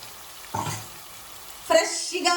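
Ginger chili paste hits a hot pan for bagara rice, giving two short bursts of sizzling frying separated by a quiet pause, close and moderately loud.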